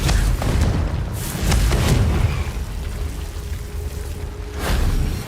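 The Confringo fire-blast spell in Hogwarts Legacy, heavy booming bursts with rumbling tails, loud and layered over a busy game soundscape, two or three big impacts across several seconds.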